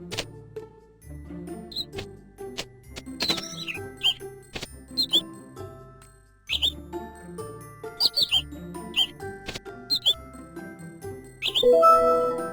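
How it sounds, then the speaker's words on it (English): A xenops bird calls in short, high chirps and tweets that come in scattered bursts over a soft music bed, with clear gaps between the bursts. "Xenops."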